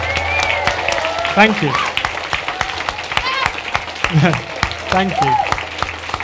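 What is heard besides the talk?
audience applause for a professor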